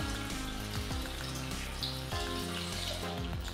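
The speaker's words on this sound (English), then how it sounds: "so you just add water." Water poured from a container into a blender for a vegetarian breakfast smoothie, a steady splashing and gurgling stream that runs continuously throughout, close and fairly loud with no talk.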